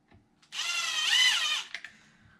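Power drill driving screws back in, a single steady whirring run of about a second rising slightly in pitch, close up, followed by a couple of brief clicks in a quiet room.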